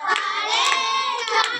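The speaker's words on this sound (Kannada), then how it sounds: "ಚಪ್ಪಳ ಹಾಕ್ರಿ ಎಲ್ಲರೂ." A group of people claps hands together in a quick burst of rapid, overlapping claps, close and fairly loud, with brief cheerful voices mixed in.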